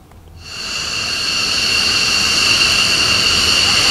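F-16 fighter jets in an Indonesian Air Force flypast rehearsal at Halim Perdana Kusuma air base, Jakarta, roar in quickly from near silence and build into a loud, sustained, hissing jet-engine rush that holds steady close by.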